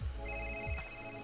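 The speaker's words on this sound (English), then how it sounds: "Somebody's phone is ringing." Phone ringing inside a restaurant in The Sims 4, a steady electronic ring tone heard briefly and fairly clearly over low game background sound.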